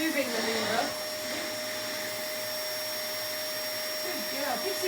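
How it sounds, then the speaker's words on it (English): A Hoover vacuum cleaner switches on indoors with a dog nearby, settling into a steady, even motor drone and whine that runs the whole stretch at moderate level. "So now I'm going to turn the hoover on."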